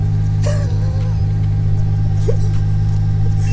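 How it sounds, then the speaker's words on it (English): An 800 hp Nissan R34 Skyline and a 400 hp K20-engined sleeper Mini drag race, heard as a loud, steady, droning engine rumble that holds throughout. "And once again, that Mini leaves the R34 standing and hands Mike a bus length slice of gapple pie."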